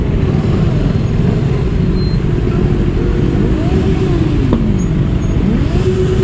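Motorcycle and car engines idle and rumble together in a dense, slow-moving crowd of riders on a group ride, a steady close low drone throughout with occasional revving.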